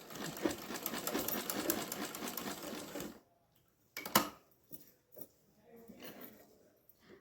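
A sewing machine stitches fabric for a layered frock in a rapid, loud mechanical whir for about three seconds, then stops, followed by softer clicks and handling sounds at the machine.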